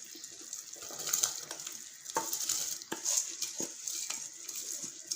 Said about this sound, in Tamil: ரைஸ் சேர்த்துட்டு நல்லா கலந்து விட்டுருங்க